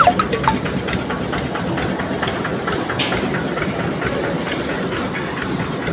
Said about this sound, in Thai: อันนี้ก็เป็นเครื่องของลูกค้านั่นแหละครับ คันนี้แหละ แน่เสียงนิ่มเชียว มันจะแรงดีครับ